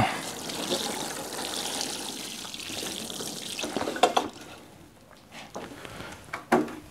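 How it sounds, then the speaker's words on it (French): Water poured from a watering can onto dry, last-year's potting soil for seedlings, a steady splashing trickle with a few sharper spatters and brief pauses, close by and moderately loud. "Alors je prends mon arrosoir et j'humidifie."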